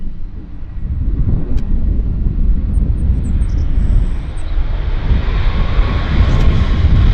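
A Boeing 737 MAX touches down at Vancouver Airport, a loud, continuous low roar of engines and rollout rumble blended with gusty wind buffeting the microphone, with no voices.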